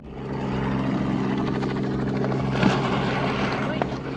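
A helicopter's steady low rotor drone holds constant throughout, a continuous mechanical hum with voices faintly mixed underneath, in the countryside of Boa Vista da Aparecida, Brazil.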